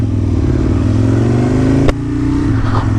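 A 2000s Aprilia RSV Mille R superbike pulls away with a steady, loud engine drone that rises in pitch as it gets moving, broken by a brief sharp knock near the two-second mark. A person riding cheerfully on a road among other riders.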